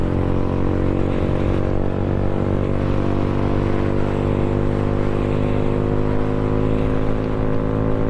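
An Amazon delivery truck drives past, its engine a loud, steady, close droning hum that holds throughout with no voices.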